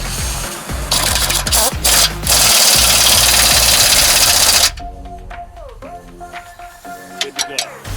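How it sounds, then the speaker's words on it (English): Impact gun rattling on a control arm bolt of a Nissan Rogue during axle replacement, a loud sustained hammering burst lasting several seconds amid shop noise, then cutting off to quieter clinks. "He's hitting it with the impact gun on the bottom and a wrench on the top."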